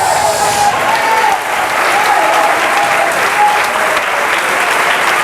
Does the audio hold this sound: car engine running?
no